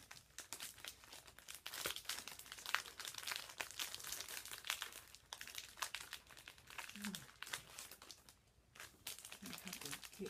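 Embossed paper packaging from a craft card swap is crinkled and torn open by hand, a steady stream of close rustling and crumpling with brief sharper tears.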